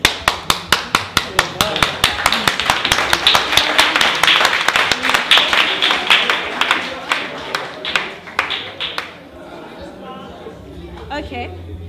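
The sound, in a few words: audience clapping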